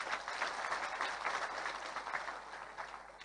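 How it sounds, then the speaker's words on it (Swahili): A crowd at a political gathering applauds the Deputy Governor of Nyeri with sustained, moderately distant clapping that fades slightly toward the end. "mpigieni makofi"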